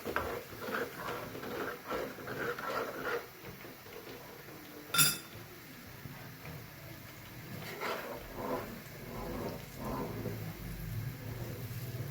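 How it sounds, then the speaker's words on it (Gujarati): A spoon stirring leftover whey mixed with lemon juice to make paneer, giving faint, soft scraping and a sharp clink near the middle, quiet and close with no talking. "ચમચીથી હલાવી લઈએ."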